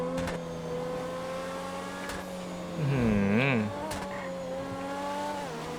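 Grotti X80 Proto supercar in the game GTA V, its engine droning steadily with a sharp rev and pitch swing in the middle before settling back into a smooth high whine, close and prominent.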